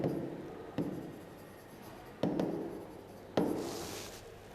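Pen or chalk strokes on a writing surface during a chemistry lesson, a soft scratchy rub broken by three sharper taps, close and quiet with no talking.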